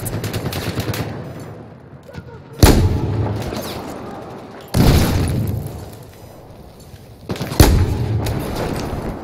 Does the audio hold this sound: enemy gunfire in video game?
yes